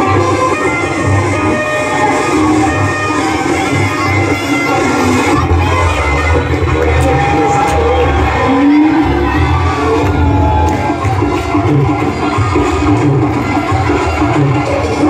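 Crowd of students whoops, cheers and shouts at a school farewell party, a loud sustained roar filling the room for the whole stretch with no clear pauses.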